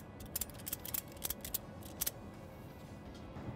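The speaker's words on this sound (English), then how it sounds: "we're just gonna ratchet this down a couple of clicks." A ratchet tie-down strap securing an ATV or UTV is cranked tight, giving a few sharp, close clicks in uneven bursts before falling quiet, with no voices.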